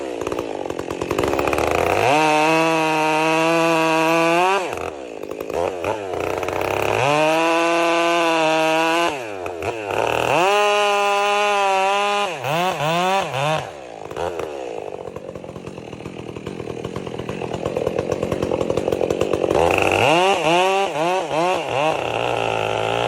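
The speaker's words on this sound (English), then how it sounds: "roars, slicing the thick log into evenly sized sections, each cut clean and precise" A chainsaw cuts a thick log into sections in rugged forest terrain, the engine revving up to a loud, close whine for each cut, then dropping back to a rattling idle between cuts, several times in a row.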